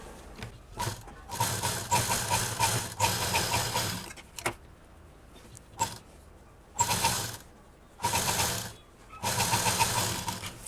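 A sewing machine stitching a net onto a fabric machine cover, running in several rapid, whirring bursts of a few seconds each, separated by short pauses with faint clicks and fabric handling.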